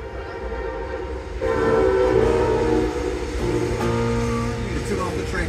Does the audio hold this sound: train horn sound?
yes